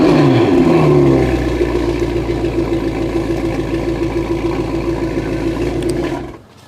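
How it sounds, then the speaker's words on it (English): A thumping V8 in a European car revs hard and then settles into a throbbing, pulsing idle up close, before cutting out abruptly near the end. "It's got a thumping great big V8"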